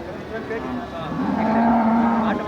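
A cow at the Manapparai cattle market lets out a long, loud, close moo that swells midway through, over a crowded outdoor background.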